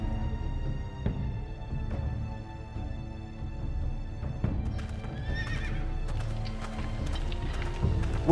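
In a Game of Thrones video game, a horse clip-clops at a moderate distance, hooves striking in an irregular patter, then gives a clear whinny near the end, all over a faint ambient background.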